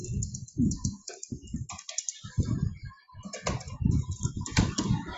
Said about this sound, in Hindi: अगर मैं एंड्रयूज को लिखता चला जाऊं,